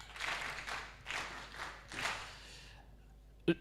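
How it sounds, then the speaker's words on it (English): An audience claps in a few soft waves that fade out over a few seconds, with a single sharp tap at the end, quiet and somewhat distant. "Can you clap for them, please?"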